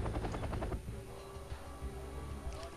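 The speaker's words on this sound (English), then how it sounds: "I even buy a recon chopper." A recon helicopter in the Wargame: European Escalation strategy game gives a continuous rotor drone over a rumbling battlefield soundscape, with rapid rhythmic thumping early on and faint crackling in the background.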